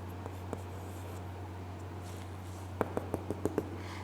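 Writing on paper or a board, faint soft scratches and a quick cluster of taps over a steady low electrical hum, quiet and close.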